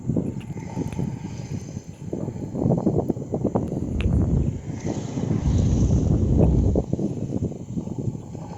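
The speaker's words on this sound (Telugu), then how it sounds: "హోర్ అయితే ఇదిగోండి, గాలి చాలా బాగా వినిపిస్తుంది" Strong wind gusts through open village countryside beside a full-flowing canal, a steady roaring rush that swells and fades in waves, buffeting the microphone loudly with no talking.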